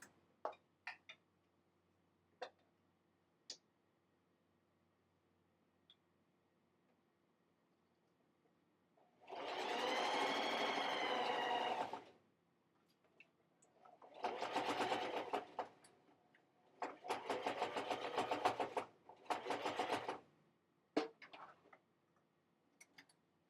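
Sewing machine stitching fabric around a seam for a bowl koozie: several separate bursts of fast, steady whirring, each a few seconds long, with quiet clicks and pauses between as the fabric is pivoted.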